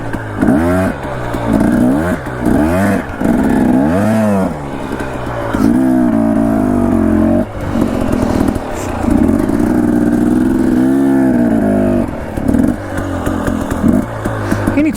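A motorcycle on a hot, dry mountain trail revs up and down repeatedly in loud, close bursts, the engine rising and falling with brief gaps between pulls.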